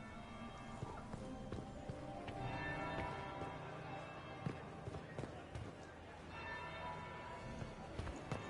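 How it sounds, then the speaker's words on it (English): A bell tolls in a video game, a few resonant strikes ringing out and decaying under ambient game sounds and footsteps, with a character speaking over it. "That's the bell."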